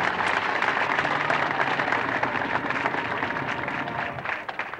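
A community audience in Southeast Chicago gives the Washington High School band a sustained round of dense, even applause that tapers slightly toward the end.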